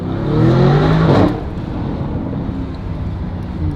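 A Lamborghini's exhaust roars in a deep, loud rumble that swells for about a second and then settles into a lower steady drone, heard close with wind buffeting the microphone.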